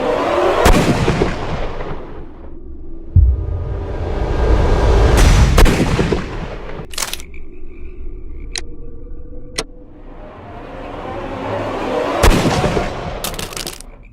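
Gunfire rings out in the detective video game Crimes and Punishments, several sharp cracks with heavy booming blasts and rumbling aftermath over tense ambient noise, ending in a couple more loud reports.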